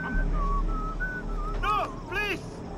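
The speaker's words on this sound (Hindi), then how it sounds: "सीटी मार रहा है कोई" A person whistles a few short, rising and falling notes in the Far Cry 3 video game, heard over a steady bed of game ambience and close to the listener.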